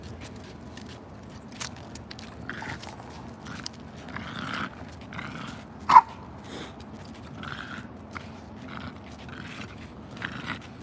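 Dogs out on a walk outdoors, with soft rustling, footsteps and faint movement sounds throughout, a brief sharp noise midway, and a quiet ambient background without clear barking.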